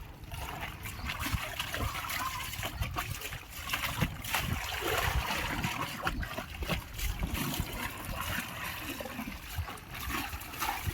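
Water sloshes and splashes in irregular bursts as a wedding saree is moved through a bucket of plain fresh water, close and continuous.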